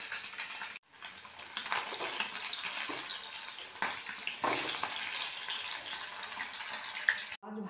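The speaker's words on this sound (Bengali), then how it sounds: "মাছটাকে আমি লাল করে ভেজে নেব" Rohu fish pieces, coated in salt and turmeric, fry in hot oil with a continuous crackling sizzle, close and steady, broken briefly by a short pause near the start and again at the end.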